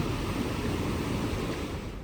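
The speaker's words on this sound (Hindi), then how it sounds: "यहाँ पे पानी के झरने की आवाज़ आ रही है यार, देखें पानी की आवाज़ आ रही है।" A clean stream or small waterfall in Austria rushes with a dense, steady broadband wash, loud and close, with no talk over it.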